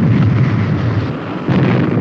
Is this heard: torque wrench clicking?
no